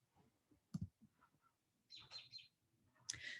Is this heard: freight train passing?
no